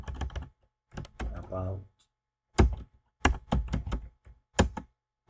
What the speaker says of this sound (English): We press Ctrl plus F, find, and then we type